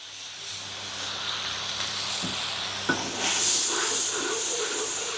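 Sauce, seasoning and rinse water brought to a simmer in a hot wok with kale and crispy pork, giving a steady steamy hiss with a faint bubbling crackle, no talking.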